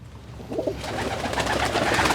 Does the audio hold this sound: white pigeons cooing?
yes